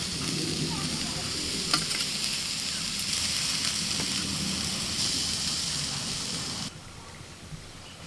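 Shushni greens fry in a pan with a steady, close sizzle and the scrape of stirring throughout, then the sizzle drops noticeably quieter near the end.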